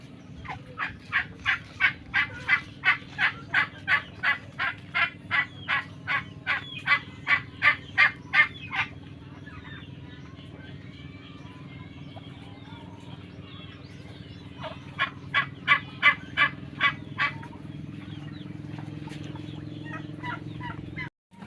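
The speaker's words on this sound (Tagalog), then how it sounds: "pinapatuka po namin yung mga alaga niyang pabo" Pet turkeys gobble while pecking at grated coconut in a seaside yard: a long run of rapid, rhythmic gobbles, a quieter stretch, then a shorter burst, all close and moderately loud over a steady low background hum.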